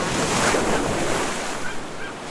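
Sea waves breaking and washing steadily at Sozopol beach, Bulgaria, a broad continuous roar of surf mixed with wind buffeting the microphone, loud and close.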